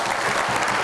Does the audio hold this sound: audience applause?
yes